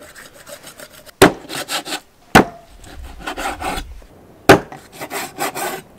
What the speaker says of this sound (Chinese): 把洗好了的鸡给它砍成大块